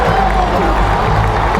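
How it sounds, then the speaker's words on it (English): Hockey crowd at a Pittsburgh Penguins home game in an arena, cheering and clapping in a steady, dense roar that fills the space, with voices mixed into the wash of sound. "Crowd gives him some love"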